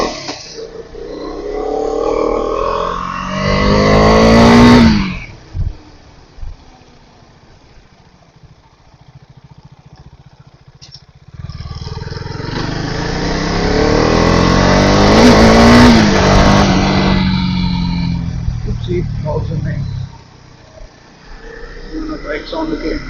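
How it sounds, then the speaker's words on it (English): A motorcycle engine drones while riding, with two loud stretches of revving and acceleration separated by a quieter, calmer passage, and wind rush over the bike. "Bike sound again."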